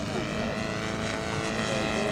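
A scale model aircraft's piston engine of 61 cc runs steadily with a continuous buzzing propeller drone at a children's day event in Běchovice, loud and unbroken throughout.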